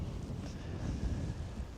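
Steady wind in winter near Zion buffets the microphone with a low, rumbling roar that barely varies, and no one speaks.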